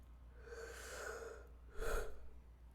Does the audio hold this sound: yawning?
yes